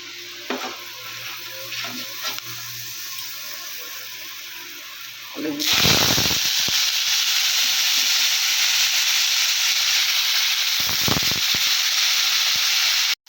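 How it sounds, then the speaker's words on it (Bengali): Black cumin seeds and dried chillies hitting hot oil for a Bengali chorchori, a quiet pan giving way to a sudden loud, steady sizzle and hiss that holds close up. "তেলটা গরম হতে দিলাম গরম হয়ে গেছে কালো জিরে শুকনো লঙ্কা দিয়ে দিলাম"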